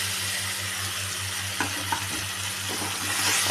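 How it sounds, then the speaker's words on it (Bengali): Turmeric and spice paste frying and being stirred in a pan for a Bengali bhola fish dish in mustard-poppy sauce, a steady sizzle with a few faint scraping stirs and a low hum beneath. "এটাকে এখন আমি ভালো করে নাড়তে নাড়তে ভেজে নেব।"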